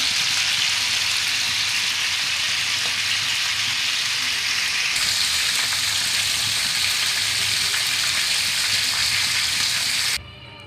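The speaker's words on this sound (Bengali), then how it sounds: "দিয়ে দিলাম চিকেনগুলো" Chicken pieces fry in oil in a frying pan, a loud, close, rain-like sizzle that holds steady and intensifies midway, then drops off abruptly near the end.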